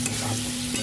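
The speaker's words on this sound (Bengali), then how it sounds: "ওলটা দিয়ে দিয়েছি, ভালো করে ভেজে নেব।" Elephant foot yam fries in hot oil in a wok, giving a brief steady sizzle with a couple of soft scraping stirs.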